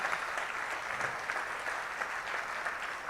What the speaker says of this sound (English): Give a big round of applause for all the engineers.